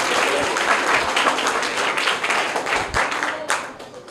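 Children in a classroom quiz competition give loud, dense applause for a winning answer, sustained clapping from many hands that thins and fades toward the end.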